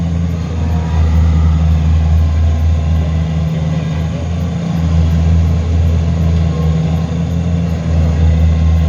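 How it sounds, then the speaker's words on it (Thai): A combine harvester and a tractor work in a muddy rice field while the harvester is stuck. Their engines make a loud, steady low-pitched drone throughout, with slight surges and no talk. "แล้วจะเอารถไถไถเอารถเกี่ยวดันกันนะ ดึงกันมาเนี่ย"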